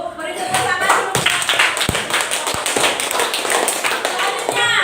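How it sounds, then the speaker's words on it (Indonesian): Classroom applause as students clap for a group that has just presented, dense hand claps running steadily through the whole stretch with murmured voices underneath. "Beri tepuk tangan dulu."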